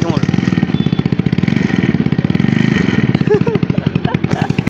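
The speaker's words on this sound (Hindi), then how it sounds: "ସ୍କୁଟିର ଅବସ୍ଥା ଟିକେ ଦେଖନ୍ତୁ ପୁରା ଏଇଠି ଯାଇଛି ଏଇଟା ଯାଇଛି କେମିତି ସାଉଣ୍ଡ ଅଛି ଶୁଣ ନା" A scooter engine with a fault runs with an odd, damaged-sounding, rough rhythmic chugging, loud and close, with a voice talking over it.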